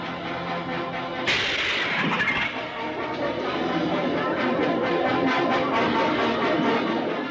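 Gunshots ring out in a dramatic Hindi film scene, a sharp burst near the start followed by continuous dense clatter and rumble under a busy mix.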